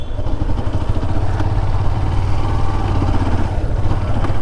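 A motorcycle engine with a fault runs close by in a village market, a loud, steady, clattering idle throughout with no talk over it.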